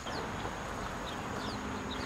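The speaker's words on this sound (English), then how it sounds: "We're gonna go check out the chicken" Chickens on a farm that also keeps guinea fowl and a donkey, with steady clucking and scattered chirps over a constant outdoor hum.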